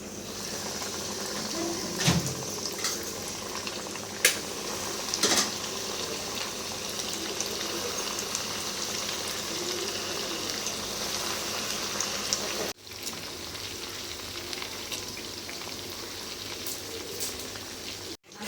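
Bread-crumb-coated chicken deep-fries in hot oil with a steady, close sizzling hiss and fine bubbling crackle that persists throughout, with occasional soft clinks and a brief dip near the end.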